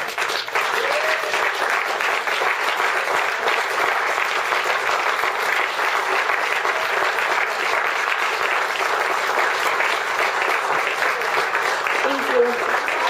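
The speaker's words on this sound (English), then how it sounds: "I'd really like to ask you to give a big round of applause" Sustained audience applause at an outdoor Flag Day Second Amendment rally, a dense, steady clapping that holds at full strength for the whole stretch with a few scattered cheers mixed in.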